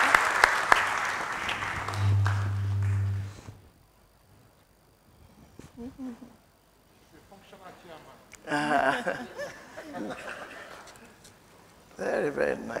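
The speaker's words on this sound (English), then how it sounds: "Please give her a round of applause for a wonderful job done." Applause from an event audience bursts out at the start, then fades into quieter room sound with talk over it, and a second round of clapping swells later.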